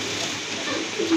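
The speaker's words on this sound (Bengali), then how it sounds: "আরেক জোড়া কবুতর এখানে, এটা হচ্ছে আপনার লক্ষা কবুতর, হোয়াইট লক্ষা কবুতর" A pair of white Lakka pigeons, one giving a short low coo near the end, heard over a constant airy background hiss.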